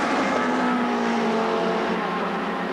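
British touring cars from the 1990 season race past at Thruxton circuit, engines howling loud and steady as the pack streams by, with no talk over the noise.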